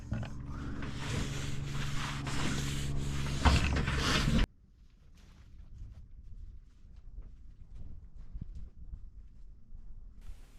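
Rough, continuous rasp of light sanding on a steel boat hull for a few seconds that stops abruptly, leaving quiet room noise with faint scattered taps.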